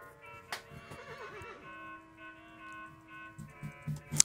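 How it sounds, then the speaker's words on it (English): A donkey brays in a video game, a warbling, wavering call near the middle, with scattered clicks and a few sharp knocks around it and no voices. "Here's that donkey."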